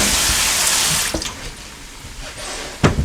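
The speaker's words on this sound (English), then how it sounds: "I'll rinse off my potatoes and quarter them." Potatoes rinsed under a running kitchen tap: a loud, steady gush of water for about a second, then a softer flow with a few splashes and knocks, close up, with no speech.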